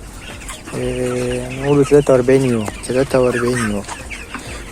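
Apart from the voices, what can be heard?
chickens clucking in a broiler flock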